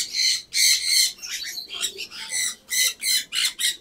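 Pigeons in a new outdoor enclosure give repeated squawking, flapping bursts, loud and close, in a steady series of short pulses with no talking.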